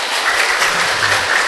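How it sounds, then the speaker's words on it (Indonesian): An audience at an Indonesian morning talk show applauds, a dense, even roar of clapping heard up close with no voices above it. "Boleh kita kasih tepuk tangan?"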